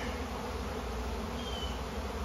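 Honeybees from an opened colony cutout, mostly robber bees among a few of the colony's own, swarm with a dense, continuous buzzing drone that holds steady and close throughout.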